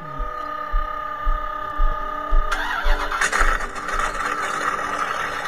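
A car engine starts up in a video game, with a cranking rumble that catches and settles into a steady running engine, fairly loud with no talking over it.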